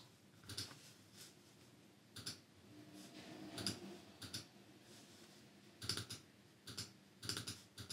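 Close computer keyboard typing in short bursts of clicking keystrokes separated by brief pauses, quiet against a soft room hiss while C compiler code is written.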